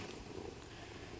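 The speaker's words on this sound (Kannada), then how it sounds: "ಇದಾ ಬೆಕ್ಕಿನ ಮರಿ." A kitten purrs softly and steadily, a low continuous rumble heard close up but very faint, with no talking.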